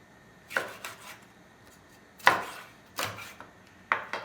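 A knife chops through fish on a cutting board for Korean maeuntang, a handful of sharp separate thuds spaced irregularly, close and clear.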